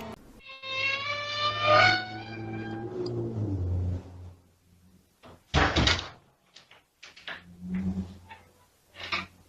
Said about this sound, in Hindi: दरवाजा अपने आप हिलता है